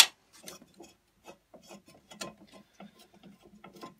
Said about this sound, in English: Take the washers off the blade bolt,